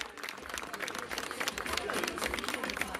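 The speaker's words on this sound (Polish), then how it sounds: "Wielkie brawa dla Michała." An audience at a men's bodybuilding competition applauds a competitor, with steady, moderately loud clapping from a crowd and some voices mixed in over three seconds.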